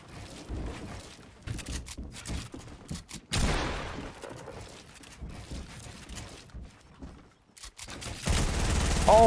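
Rapid bursts of P90 submachine gun fire in a Fortnite-style arena shooter, dense fusillades crackling in close overlapping volleys with brief gaps, loud and near, swelling heavier toward the end.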